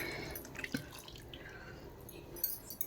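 Water splashes and trickles into a jackfruit seed curry on the stove, faint and close, with scattered drips and small pours.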